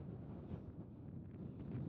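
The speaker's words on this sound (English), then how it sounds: "It is windy as hell" Strong wind buffeting the microphone at the top of Wilcox Pass, a steady low roaring rumble that fills the whole clip with no breaks.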